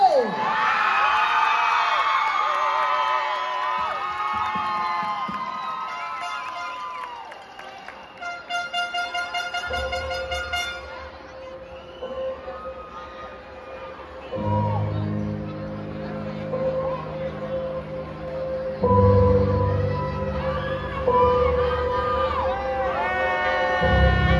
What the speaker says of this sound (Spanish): Con un fuerte aplauso en este escenario al colegio La Fe.